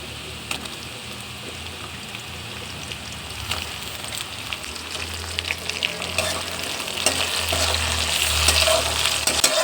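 Onions frying in a pan, browned for a chicken curry, as tomato goes in, giving a loud steady sizzle that grows fuller toward the end, with scraping stirs and no voices.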